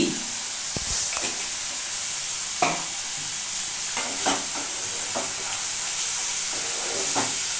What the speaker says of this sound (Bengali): এই যে এখন আমি একটু নাড়াচাড়া করছি, ভালো করে মশলাটা কষছি